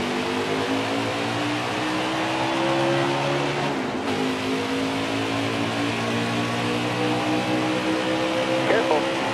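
A pack of stock cars roars on at the green flag at Daytona in NASCAR Heat 4, with steady loud engine drone and layered revving tones running throughout.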